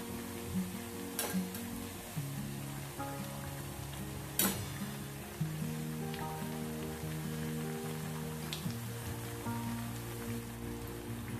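Chakli spirals frying in hot oil give a steady, close crackling sizzle with small bubbling pops, running alone without speech throughout.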